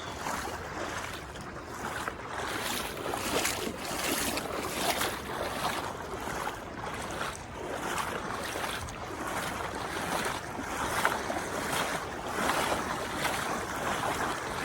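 Continuous rushing water and splashing close by as someone wades across a chilly river, with wind buffeting the microphone; no voices.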